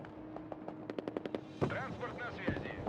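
Gunfire in the video game Broken Arrow, a tank assault battle: a quick run of light rapid shots, then heavier bursts and rumbling impacts, moderately loud under game background noise.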